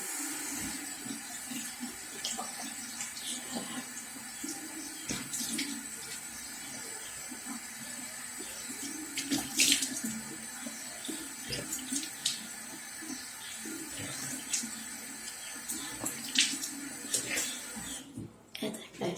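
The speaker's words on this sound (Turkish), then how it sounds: "Şimdi suyumuzu açıyorum." Water runs steadily from a bathroom tap into a sink during a morning washing routine, a continuous close hiss lasting throughout with brief breaks near the end, accompanied by faint voice murmurs.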